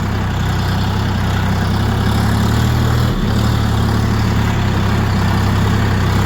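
Steady, loud low engine idle with a deep continuous rumble throughout, a brief dip near the middle, no voices.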